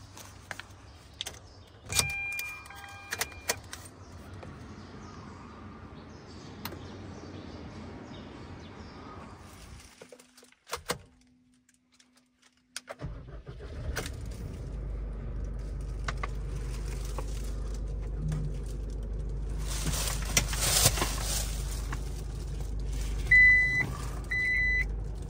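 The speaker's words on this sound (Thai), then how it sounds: "ขยับรถกันแป๊บนึง" An Isuzu D-Max pickup started and moved, with clicks and jangling keys, a brief quiet pause, then the engine turning over into a steady low idle rumble with a short chime near the end.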